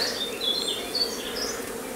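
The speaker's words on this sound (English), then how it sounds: "I'm going to shake the bees into that" Honey bees shaken off a frame from a WBC hive during a swarm inspection make a steady, dense buzzing hum, close and continuous throughout, with no speech.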